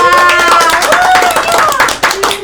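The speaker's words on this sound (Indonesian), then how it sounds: "boleh tepuk tangan dulu untuk kelompok 2" Students in a microteaching geography class clap for a presenting group, loud close-up hand claps in an uneven rhythm with voices and chatter over them, dipping briefly near the end.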